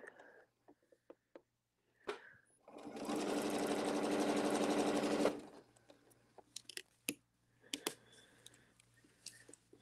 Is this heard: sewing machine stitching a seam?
yes